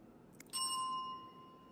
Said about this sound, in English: If I ring the bell.